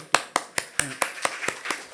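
A congregation at a Korean Sunday afternoon church service claps in a quick, even rhythm of about eight sharp, close hand claps, with a brief voice in between.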